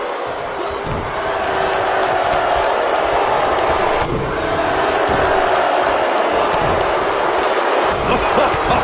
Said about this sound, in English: Baron Corbin is giving the crowd a show